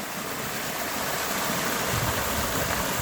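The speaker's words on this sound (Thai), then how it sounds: "มาตอนอยู่น้ำตกน้อยอีกแล้ว" Water from a small waterfall and stream in rural Isan, Thailand, rushing in a steady, loud, unbroken hiss up close, with no talking.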